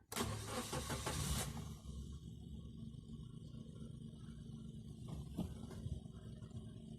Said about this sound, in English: Foot on the clutch, twist the key to start.